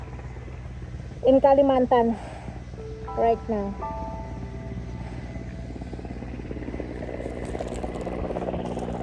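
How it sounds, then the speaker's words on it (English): Helicopters water bombing peatland fires in Kalimantan, heard as a steady low rotor drone throughout, with people talking over it in the first seconds. "That's the sound of the water bombing with helicopters"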